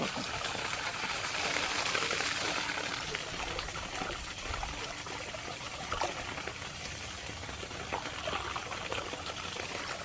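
Water trickling and flowing steadily, a continuous dense wash of sound close by with faint voices in the background.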